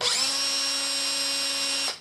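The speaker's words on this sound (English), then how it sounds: "is I use a drill with a bit of bent metal in it," Power drill fitted with a piece of bent metal spins at low speed mixing clear epoxy tinted green with acrylic paint, a steady close whine with a rising start, holding evenly for nearly two seconds before cutting off.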